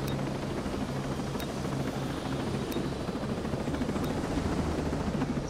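Video game helicopter lifting off, with a dense continuous rotor roar and whine that holds steady and loud throughout, no talk over it.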